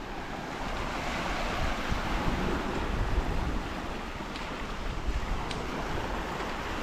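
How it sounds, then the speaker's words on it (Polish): Sea waves rolling onto a Philippine shore, a continuous broad wash of surf with a rumbling low end and wind buffeting the microphone, steady and fairly loud, no voices. "Teraz możecie sobie porównać, jak wygląda morze u nas dzisiaj. Jeżeli chodzi o spiętrzenie, o fale."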